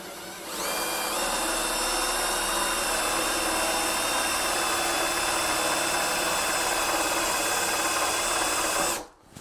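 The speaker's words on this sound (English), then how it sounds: "now we've got the hole saw for the drill ready, and we're going to drill the bolt here on the door" A hole saw on a power drill boring a lock hole through a door, spinning up after a brief start into a loud, sustained whine with steady tonal grinding for about eight seconds, then winding down abruptly.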